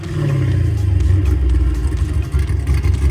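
A car engine revs loud and close, a deep throaty rumble that swells and dips over a few seconds with some clattering, no voices over it.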